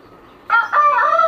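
A rooster named Brás crows loudly up close, one strained call broken by a brief dip before the longer held note, with nothing else around it.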